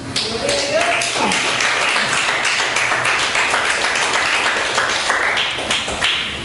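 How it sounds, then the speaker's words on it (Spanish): A church congregation applauds, a dense, loud patter of many hands clapping close up, steady throughout, with voices and shouts mixed in. "Denle un aplauso al Señor entonces."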